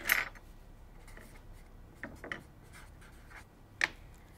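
Pen or pencil writing down dress pattern measurements on paper, faint scratchy strokes and a few soft taps, sparse and close in a quiet room.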